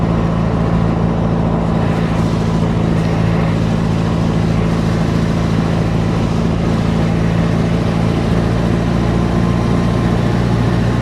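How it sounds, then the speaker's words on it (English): A 1926 car labours up a steep hill in its noisy straight-cut first gear, producing a steady, loud low engine drone with a constant whine, close and continuous, with no talking. "Or it's very steep, we have to go into first gear, which, as you heard earlier, is very noisy."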